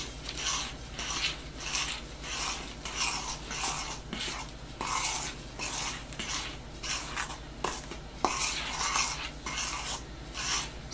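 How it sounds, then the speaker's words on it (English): Ingredients with baking powder and a dash of salt are stirred in a bowl during prep for an outdoor cooking class, a steady rhythmic scraping and swishing, close and alone, repeating in regular strokes throughout. "So now we stir this all up."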